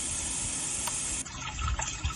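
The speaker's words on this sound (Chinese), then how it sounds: "水的声音" A white noise speaker plays a steady rushing water sound, broadband and continuous, shifting slightly partway through with a few faint bubbly surges; no one speaks.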